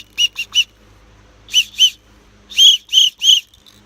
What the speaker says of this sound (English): Next thing gives me an orange safety whistle